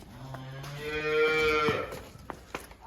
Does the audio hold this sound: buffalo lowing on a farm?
yes